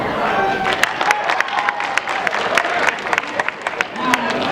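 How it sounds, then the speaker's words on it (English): Audience applause and cheering at a comic con cosplay contest, a dense crowd clapping steadily for several seconds with a voice over it. "Round of applause if you know even who the heck I am."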